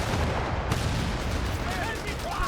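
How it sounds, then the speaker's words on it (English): Rocket fire pounds away in a Company of Heroes 3 battle, a dense, steady barrage of blasts filling the whole stretch at close range, with a commentator's voice running underneath. "he's being torn to rocket fire here"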